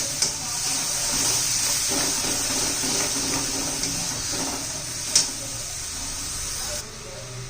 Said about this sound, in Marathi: एक दोन तीन मिनटं आपण चांगलं वाटण परतून घेऊया तेलामध्ये